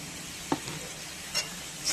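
Peanuts and other ingredients fry in a pan with a soft, continuous sizzle, broken by a few light scrapes of stirring.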